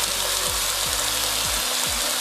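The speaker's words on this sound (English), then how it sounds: "place oil and chicken in the pan" Chicken sizzling in hot oil in a pan, a steady dense crackle with no talk, broken by a few low knocks.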